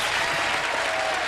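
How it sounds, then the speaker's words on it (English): Studio audience applauding on a game show, a loud, dense wash of clapping filling the whole short moment without any speech over it. "and I think that deserves your applause."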